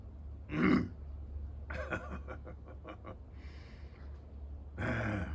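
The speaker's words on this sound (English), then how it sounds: "A belch, my man." A man belches loudly once, then gives a string of shorter throaty grunts and breathy sounds, with another low belch at the end, close and clear in a quiet setting.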